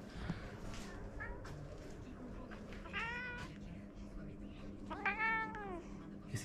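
A cat meows twice nearby, drawn-out plaintive cries separated by a few seconds, over a low background rumble.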